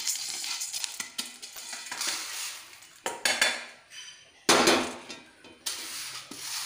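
Roasted Salem-style spice mix is tipped out of a pan, with a run of dry metallic scrapes and clinks against the pan, some brief and sharp and others sustained and rattling, close and moderately loud with short pauses in between.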